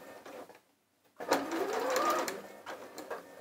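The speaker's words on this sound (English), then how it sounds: "So that was the locking stitch happening." A sewing machine runs a short locking stitch while making a yo-yo bag, starting after a brief pause with a steady close mechanical whir for about two seconds, then easing off with softer clicks.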